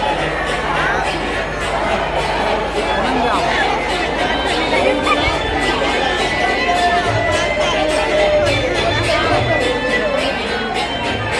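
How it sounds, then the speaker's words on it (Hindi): Dense crowd chatter fills a busy pandal at the 2022 Karthikeshwar fair in Bojiya, Chhal, a steady loud babble of many voices with no single speaker standing out. "पंडाल है और भीड़ बहुत सारा है यार"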